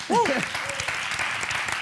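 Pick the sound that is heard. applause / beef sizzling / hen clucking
applause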